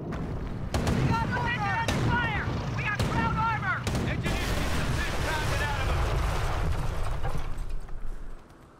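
Repeated artillery barrages and explosions thunder through a Company of Heroes battle in the campaign's taking of Cherbourg, heavy booms arriving every second or so over continuous loud rumble and crackling gunfire, with voices shouting over the din.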